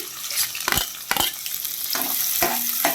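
Chopped onion and green chilli hit hot oil in a pan, a lively sizzle broken by several sharp spatula scrapes and knocks as they are stirred, close and without talk.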